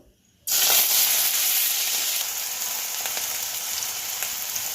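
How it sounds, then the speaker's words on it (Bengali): Chopped potatoes dropped into hot oil burst into a loud sudden sizzle after a brief quiet moment, then settle into a steady, slightly softer frying hiss. "তেল গরম হয়ে গেছে, এবার আমি আলুগুলো দিয়ে দেবো।"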